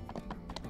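Horse hooves clip-clop in the video game My Time at Sandrock, a quick, even run of close hoofbeats.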